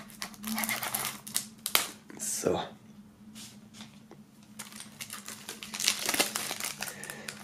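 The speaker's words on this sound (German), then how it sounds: "werden wir den mal aus der Folie holen" Plastic film is peeled and crinkled off a music album box, giving close, irregular rustles and crackles with sharp bursts at intervals.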